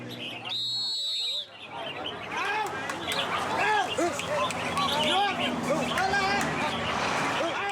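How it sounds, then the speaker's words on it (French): Caged birds trill and warble over one another at a popular bird song contest in southern Thailand, with repeated chirps and calls layered over a crowd's murmur and traffic rumble; a brief high tone sounds at the start. "les pêcheurs se détendent en participant à un concours de chant d'oiseaux très populaire dans le sud"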